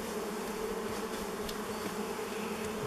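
Dense, steady buzzing of many honeybees swarming around a beehive just opened after more than 30 years sealed, heard close and continuous with no talk.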